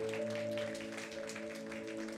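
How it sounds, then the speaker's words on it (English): Church congregation clapping for the fathers on Father's Day, a soft, steady patter of hands beneath a sustained tonal hum from instruments or the sound system. "You can clap for the dads."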